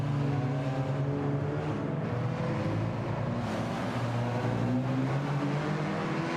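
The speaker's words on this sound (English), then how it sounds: "No, not a bad sound for a 4-cylinder." A 4-cylinder car engine in the Gran Turismo 7 racing game hums steadily with strong harmonic drone, holding a sustained, fairly loud note with slight pitch shifts throughout, no voices present.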